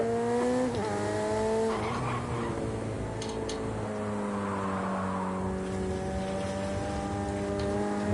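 Race car engine on a warm-up lap, a loud steady drone with harmonic tones that dip and climb with gear changes and throttle, heard close from onboard with no talking.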